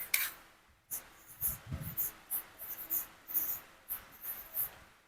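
Pen or pencil scratches across paper while a math problem is erased and rewritten, a string of short, faint scribbling strokes in an uneven rhythm, close by, with a soft rubbing burst near the start and no speech.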